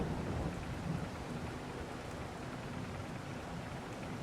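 Steady rain falls in Farming Simulator 22, a soft, even hiss of rain on the ground with low rumbling beneath, quiet and unbroken from start to finish with no voices.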